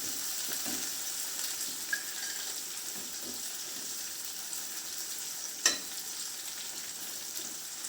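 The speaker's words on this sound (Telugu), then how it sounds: "కరివేపాకు ఇలా ఫ్రై చేసుకుంటూ దాంట్లో బాగా కలబెట్టాలి" Curry leaves fry in hot oil in a pan with a bright, continuous sizzle. A spoon stirs through them, and a couple of sharp clicks against the pan stand out, with no voices.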